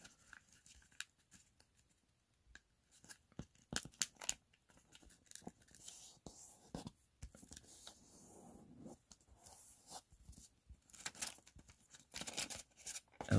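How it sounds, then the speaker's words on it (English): Origami paper being folded in half into a triangle for a crane, with close, quiet crinkling, tearing-like rustles and sharp creasing scrapes scattered through the clip. "So fold it in half from bottom to top to make a triangle"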